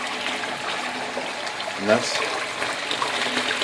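A drain pump setup pushes a strong flow of water, giving a steady rushing gush with a brief louder surge midway, while someone talks over it.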